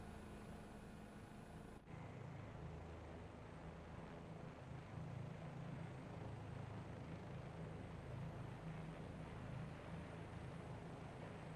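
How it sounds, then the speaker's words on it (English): A steady, continuous helicopter rotor drone in the video game Microsoft Flight Simulator 2024 fills the scene, constant and fairly close, with no break except a brief shift early on. "let's fly under this helicopter here"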